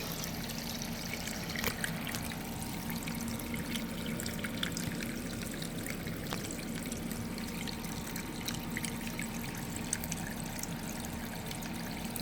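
Water trickles steadily through a small creek overgrown with dog fennel, a faint, continuous babble with no break and occasional soft clicks.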